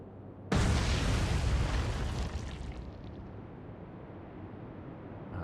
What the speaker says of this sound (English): 2 torpedo hits. She's gone. There we go. There's a big pop, and she's gone.